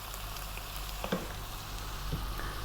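Lamb with garlic frying in a pan for an Ethiopian sega alicha wot stew, giving a steady close sizzle with faint crackles and a few soft stirring clinks, with no talking.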